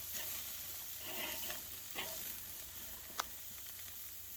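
Hamburger patties sizzle on a Weber grill right after being flipped, a steady, fairly quiet frying hiss with a few soft scrapes and one sharp click near the end.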